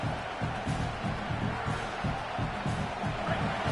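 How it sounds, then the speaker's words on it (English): A stadium crowd in a College Football 27 game roars in a continuous, dense wash, with rhythmic swells like chanting or stomping pulsing under it throughout. "This crowd trying to make life miserable for this offense"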